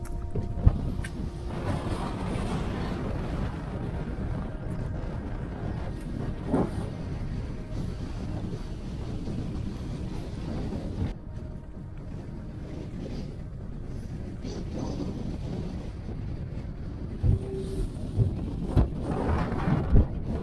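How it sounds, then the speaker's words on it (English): Gusty wind blows over a rocky gully on Dow Crag in the Lake District fells, a steady broadband rush that dips slightly midway and then gusts again, with occasional buffets against the microphone. "I think the wind's coming over like that."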